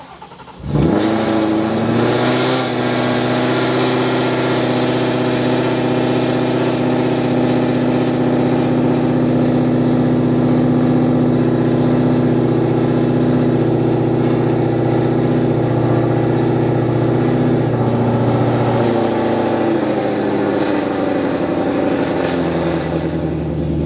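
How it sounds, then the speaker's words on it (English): A Ford Mustang 5.0 V8 cold-starting on E85 fuel, with a sharp crank and catch, then a loud, steady high idle that holds close by and eases slightly lower near the end. "let's see this cold start on E85"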